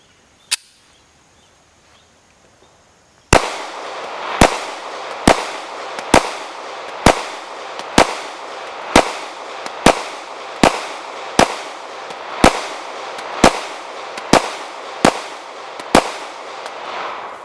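Taurus PT111 G2 pistol firing flat point plated bullets from an extended magazine outdoors: one lone shot, a pause, then a sharp string of about fifteen evenly spaced, loud, close shots.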